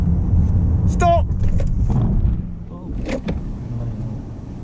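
A learner driver's car brakes sharply for an emergency stop during a mock driving test, a low rumbling engine and road noise running throughout beneath an instructor's voice, with a brief squeal-like tone partway through.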